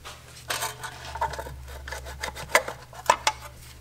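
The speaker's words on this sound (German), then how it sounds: "Das zieht man von den beiden Passhülsen ab und hier hinter dem Flansch nach oben raus" A thin intermediate metal plate scrapes and rubs as it is worked off two dowel sleeves behind the flange near an Audi gearbox, giving close rasping friction bursts and a couple of light metallic ticks.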